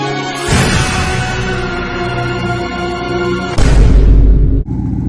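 A 1997-2003 Ford F150 engine cranks and then catches, settling into a loud, close idle with a steady drone.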